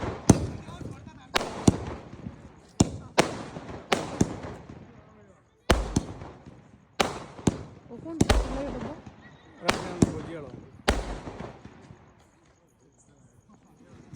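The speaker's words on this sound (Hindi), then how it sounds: "और अब छोड़ रहे हैं हम पटाखे" Firecrackers set off for Diwali at a family celebration: a series of sharp, loud bangs in irregular bursts, each followed by crackling decay, with voices talking between the blasts.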